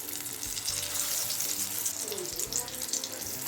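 Dhoka, lentil cakes of chana dal with pumpkin, sizzle close-up in hot oil as they fry, a steady bright crackling hiss with no talking.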